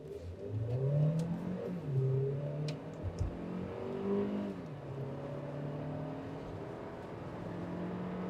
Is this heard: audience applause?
no